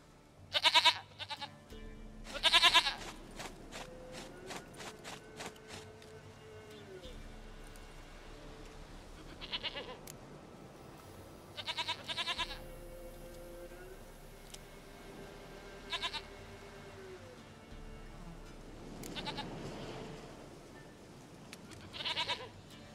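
Goat bleats from the video game The Witcher 3, several short bursts spaced apart over game music and a voice speaking.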